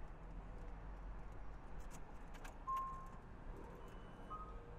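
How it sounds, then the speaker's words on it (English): A Tesla electric car sounds its door-open warning chime: a couple of brief, clear dings over a low, steady background hum, with no engine noise. "What you're hearing is the ding ding because the door is open."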